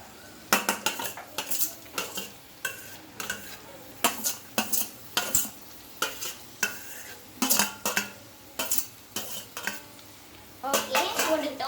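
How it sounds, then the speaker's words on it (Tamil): Chopped capsicum, beans and carrot are tossed into a pan and stirred. A metal spoon scrapes and clanks against the pan in repeated bursts, with a faint sizzle underneath and no speech. "வெஜிடபிள்ஸ் கட் பண்ணி வச்சது கேப்சிகம், பீன்ஸ், கேரட் போட்டுக்கலாம்"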